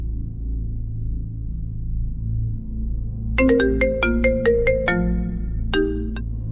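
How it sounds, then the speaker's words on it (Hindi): A mobile phone ringtone plays a bright run of electronic notes over a low steady hum, then a short repeat of the phrase, loud and close without talk. "उठा लो फोन।"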